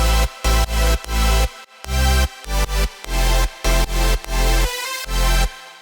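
Layered synth basses and bright synth chords play together in a dense electronic drop, pumping rhythmically from sidechain compression with brief dips between loud bursts, no voices.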